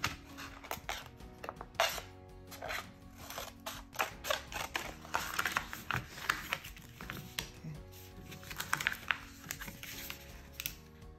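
Excess infusible ink sheet being trimmed away for a Cricut tote bag project, a close series of crisp snips and clicks with small pauses between cuts.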